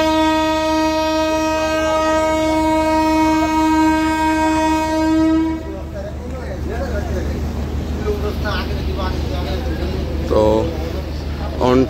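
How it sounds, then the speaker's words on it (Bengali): Agartala–Sabroom DEMU special at Agartala station, a long, loud horn blast held for several seconds, then rumbling wheels, clanks and squeals as the train gets moving, with voices in the background. "সামনে আমাদের ট্রেন দাঁড়িয়ে রয়েছে সাবরুম আগরতলা ডেমো স্পেশাল"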